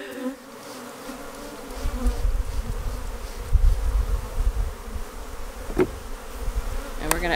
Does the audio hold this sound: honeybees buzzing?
yes